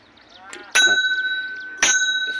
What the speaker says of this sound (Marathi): घंटा वाजवा घ्या तुम्ही वाजवा